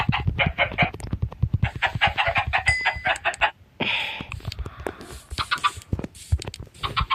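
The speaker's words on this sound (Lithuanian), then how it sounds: "Gerai, turim vištas." Chickens in the video game Minecraft clucking in a steady run of short, close calls, with brief gaps and a few other game sounds between them.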